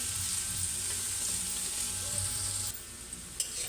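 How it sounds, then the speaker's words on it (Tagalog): Steady sizzling of carrots frying in a hot pan, a constant crackling hiss with a few faint clinks near the end. "i-prito muna saglit"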